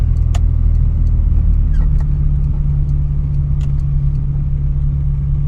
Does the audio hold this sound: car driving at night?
yes